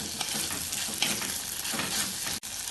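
Kohlrabi poriyal cooking in a pan as it is stirred, producing a dense, bright sizzle with a few soft scrapes, close and steady before a brief cut near the end.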